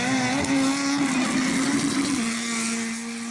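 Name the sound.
turbo Nissan SR20 180SX drift car revving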